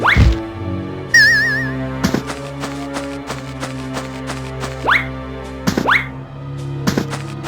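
Cartoonish thunks and bouncy pops from pumpkin bombs in the video game Jersey Devil, a string of sharp hits spread across the clip over steady game music, with a few swooping tones rising between impacts.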